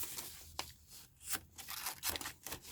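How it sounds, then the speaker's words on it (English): Small spring-action scissors on a Leatherman miniature multi-tool snip through material in several quiet, crisp cuts at an irregular pace, close up. "And it cuts like a pair of scissors."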